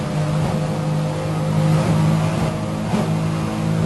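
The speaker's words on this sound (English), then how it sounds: "you hear the whining of those outboard motors" Steady, droning engine whine from racing powerboats' outboard motors at a 2001 offshore race off New York City, continuous and fairly loud, with slight pitch shifts as the boats run.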